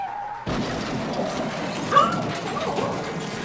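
A dog whimpering and yipping as a soundboard-style effect, a few short upset cries layered over a steady background of noise, fairly close and moderately loud.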